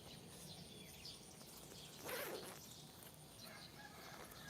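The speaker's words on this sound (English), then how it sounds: "Yeah, you can hear those chickens and" Chickens clucking with a rooster crowing in the distance at early morning in Thailand, faint and scattered over steady background ambience, with one louder burst midway.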